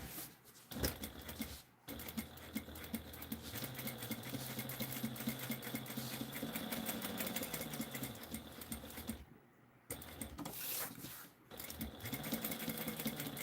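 Sewing machine stitching with thick thread, a steady rapid mechanical whir running almost throughout with two brief pauses, fairly quiet and close, no talk.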